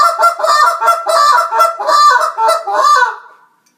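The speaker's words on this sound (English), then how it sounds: "That's just your double clucks and some moans." A goose call blown close and loud in a rapid rhythmic run of double clucks blending into moans, about a dozen short honking notes before fading out.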